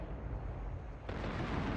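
Secondary guns on the Agincourt battleship in World of Warships fire in a short burst, a dull booming thud rising suddenly over a low rumbling background, heard alone without talk.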